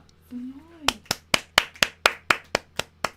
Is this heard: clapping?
yes